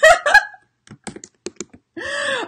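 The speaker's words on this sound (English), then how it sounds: "sorry, I'm typing in y'all's ear" A few quick computer keyboard key clicks tap out sparsely between short bursts of nearby sound, close and crisp.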